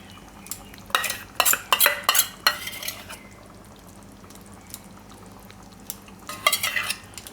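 Mixed dal vadi curry with cream is stirred in a pot. A spoon scrapes and clatters in quick, close bursts, goes quiet for a few seconds, and then scrapes again at the end, with no one speaking.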